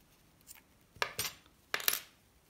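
Scissors snipping off excess yarn from a finished knitted scarf, two or three quiet, crisp metallic cuts spaced about a second apart, close and alone in a quiet room.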